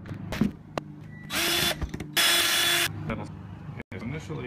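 A power drill backs screws out of a smart door lock, two loud whirring bursts of about a second each, with clicks and handling noises around them and a voice talking nearby.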